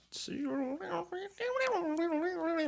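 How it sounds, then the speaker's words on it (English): Cats meow and yowl nearby in a series of drawn-out, wavering cries, rising and falling over a couple of seconds. "spending way too much time with cats, just in case you're concerned by that noise"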